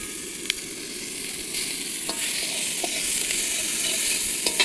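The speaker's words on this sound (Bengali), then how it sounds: "পেঁয়াজটাকে ভালো করে ভাজা হবে।" Onion frying in hot oil with dried red chilli and bay leaf for a Bengali fish curry, a steady close sizzle with occasional stirring scrapes and crackles, no voices.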